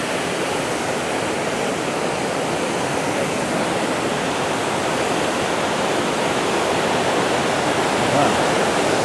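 Ousel Falls in Big Sky, Montana roars as a dense, steady rush of falling water, loud and close, unbroken from start to finish.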